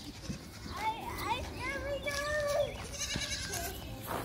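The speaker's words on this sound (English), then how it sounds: "Hey, goat! Baby goat!" Goats at an animal park feeding area give several wavering, high bleats in quick succession while children chatter and shout nearby.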